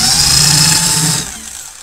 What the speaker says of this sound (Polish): podłączmy sobie 12 V do wkrętarki